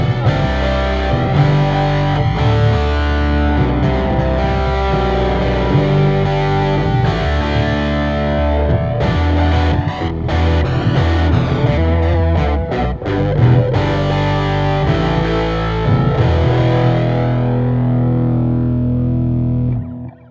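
An electric guitar plays through a Boss OC-5 octave pedal and HX Stomp with heavy distortion, chorus and other effects, a thick, swirling, sustained wall of tone for about twenty seconds.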